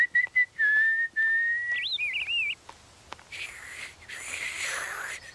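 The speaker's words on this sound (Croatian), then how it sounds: "Zašto zviždućeš? Pa to je kao da razgovaraš s pticama." A person whistles as if calling to birds, first a long steady tone and then a short wavering run. A few softer, breathy whistles follow after a brief pause, close and unaccompanied.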